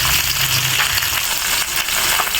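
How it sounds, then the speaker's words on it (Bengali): Pieces of foli fish fry in hot oil with a dense, continuous sizzling hiss that stays close and fairly loud throughout, with no talking. "অল্প অল্প করে মাছগুলো ভেজে নিব।"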